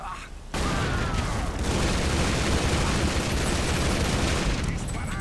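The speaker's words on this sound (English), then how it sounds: "Here, have a grenade." Sustained loud gunfire and explosive blasts from a grenade and assault rifle in the video game Tomb Raider Underworld, a dense continuous barrage after a brief quieter opening.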